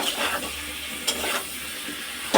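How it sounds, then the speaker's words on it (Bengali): Papaya and potatoes with turmeric, salt and goat fat frying in a little oil, a soft close sizzle with a few scraping stirs, the last one a sharp clatter at the end. "হলুদ আর নুন দিয়ে দিয়েছি পেঁপের মধ্যে আলুর মধ্যে, এবার একটুখানি লাল লাল করে ভেজে নেবো।"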